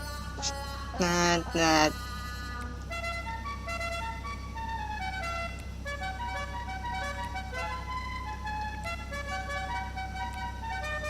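Two short, loud car horn honks sound in GTA 5, followed by a steady bed of tonal game sounds.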